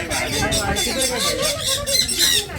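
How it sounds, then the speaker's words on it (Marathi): Birds squawking and squealing in a rain-freshened aviary at Paruchi Wadi, a monsoon picnic spot, where the birds perch on visitors' hands; busy overlapping calls with chatter from people nearby. "हे जे पक्षी आहेत ते आपल्या हातावर सहज येऊन बसतात"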